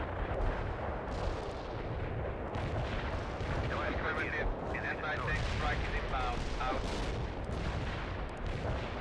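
A saturation artillery barrage in the war game World in Conflict, with a dense continuous roar of shell blasts and rumbling impacts that rolls on without a break. A voice talks faintly underneath.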